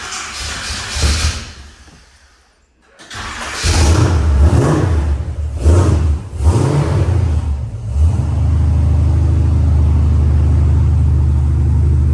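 A car engine with a new starter and a bad spot on the flywheel cranks, catches and revs in rising and falling surges, then settles into a loud, steady rumble.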